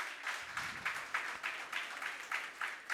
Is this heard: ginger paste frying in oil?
no